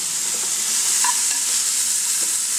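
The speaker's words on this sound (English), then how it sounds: "I'm just going to crisp this bacon up. Nice thick cuts of pancetta." Thick-cut pancetta crisping in a pan, a loud, dense, continuous sizzle with no talking.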